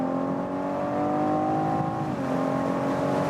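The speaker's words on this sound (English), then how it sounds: "let's accelerate it out using the shifting pedals" An open-top BMW M440i or Audi S5 sports car accelerating through a tunnel on paddle shifts, a loud, close, sustained engine drone whose pitch climbs, dips at an upshift, then rises again, with no talking.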